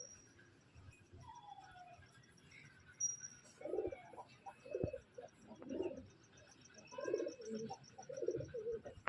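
Pigeons at a loft coo in repeated soft, throaty phrases at a steady pace, close by and fairly quiet, with faint bird chirps in the background.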